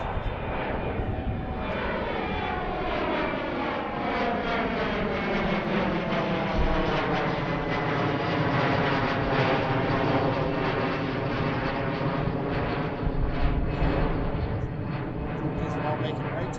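A fixed-wing airliner takes off from runway 17 at Philadelphia International Airport, its jet engine roar building and holding loud for many seconds, with a sweeping rising-and-falling whine as it passes.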